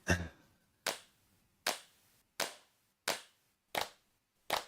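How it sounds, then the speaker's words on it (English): A sampled clap drum from a sampler fires six times at an even, unhurried pace, each hit a crisp, isolated snap that decays quickly into silence. "Yeah, the actual clap."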